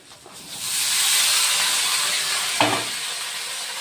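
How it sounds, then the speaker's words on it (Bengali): Steady hissing sizzle of potatoes frying in hot oil with chillies and onions, loud and close, with a brief clatter partway through. "মরিচ পেঁয়াজ ভাজা হয়ে গেছে গা, এখন আমি আলুটি দিমু"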